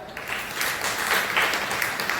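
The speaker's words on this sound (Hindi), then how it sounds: "ताली बजाओ यार।" Audience clapping at a natural-healing health camp in Haldwani area, Nainital: steady broadband applause lasting the whole moment, moderately loud with a slight swell in the middle.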